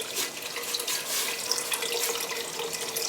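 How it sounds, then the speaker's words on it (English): Beef bone broth pours steadily into a bowl of pho, a continuous close splashing stream with no talking. "I'm just going to progressively add broth. This is bone broth."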